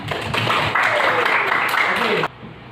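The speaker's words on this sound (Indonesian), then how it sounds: "Sekali lagi beri tepuk tangan." A classroom audience applauds after a student music performance in an Indonesian school setting, a steady, moderately loud patter of clapping that cuts off abruptly near the end, with a voice speaking over it.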